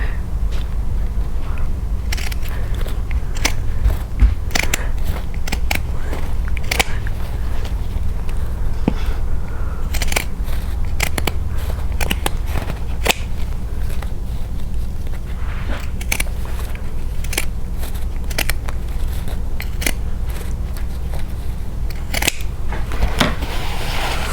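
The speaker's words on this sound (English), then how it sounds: "I'm just going to go ahead and cut around through all the fabric." Scissors snip through several layers of fabric during an embroidery project, giving a steady run of sharp, close crunching cuts over a constant low background hum.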